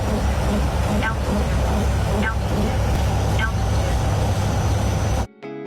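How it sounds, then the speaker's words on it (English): Inside the cockpit of a C-130J Hercules flying at low level, a dense, steady engine and airflow roar fills the space, with faint rhythmic windscreen wiper sweeps recurring about once a second before the noise cuts off abruptly. "the sound from inside the cockpit of a low-level flying C-130J Hercules"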